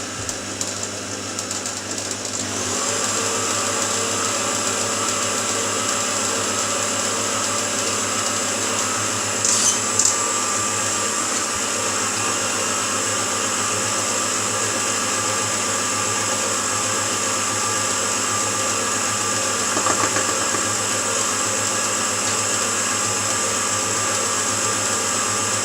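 An electric mixer beating cheesecake filling with icing sugar for a Cadbury Creme Egg cheesecake, a steady close motor whine that holds constant throughout with a few faint clinks, and no talk.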